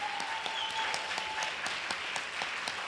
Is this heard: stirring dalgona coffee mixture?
no